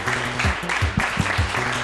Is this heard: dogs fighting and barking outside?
no